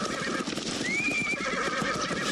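A horse neighs loudly amid a busy outdoor scene in a film, a single drawn-out whinny over a dense wash of hoof clatter and background commotion.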